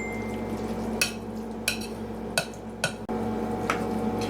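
A spoon folds seasoned cornbread dressing with sage and poultry seasoning in a bowl, sounding as a few soft scrapes and clinks spaced about a second apart over low kitchen hum.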